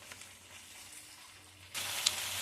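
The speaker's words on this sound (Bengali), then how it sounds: "এটা এবার ভালো করে আমি কষবো।" Spinach paste with spices sautéing in a pan, a quiet steady sizzle with faint stirring, swelling into a louder, brighter hiss near the end.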